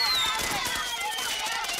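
Fireworks bursting in a Progressive insurance TV advert: whistling rockets sweep downward over a dense crackling roar that continues steadily throughout, with a busy mix of voices underneath.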